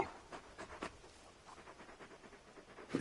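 A large dog companion in Final Fantasy XVI pants in quick, soft, rhythmic breaths. The panting is close by and continues steadily for a few seconds without speech.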